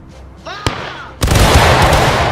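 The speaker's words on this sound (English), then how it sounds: "Company, fire by company!" A company of infantry fires a musket volley in the War of Rights video game: a sharp single crack first, then a massive, sustained roar of gunfire filling the rest of the moment, loud and close.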